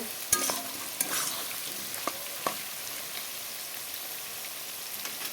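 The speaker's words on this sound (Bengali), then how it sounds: "আলু বেগুন দিয়ে কিছু একটু ভাজি করে নেব" Potatoes and eggplant fry in fish oil with salt, giving a soft steady sizzle broken by a few sharp clinks and scrapes of a utensil against the pan near the start.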